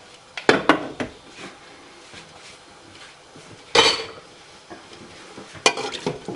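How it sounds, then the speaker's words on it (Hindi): A pressure cooker of slow-cooked beef nehari is opened with clattering metal clanks and a few sharp knocks of the lid and pot, close and fairly loud, then a quieter stretch before another clank. "अब हम कुकर को खोल लेते हैं।"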